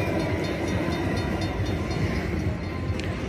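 Train sound effect from the Cash Express Luxury Line slot machine, a loud, steady rumbling rolling noise with faint rhythmic clicks, playing continuously over casino background ambience.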